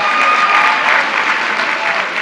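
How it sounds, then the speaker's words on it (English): A crowd at a women's equality luncheon applauds after elected officials are acknowledged, producing a steady, loud roar of clapping that holds evenly across the whole short stretch. "A big round of applause."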